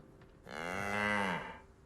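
An ox lows in Baldur's Gate 3, one drawn-out moo swelling and fading over about a second, heard clearly on its own with no talk over it.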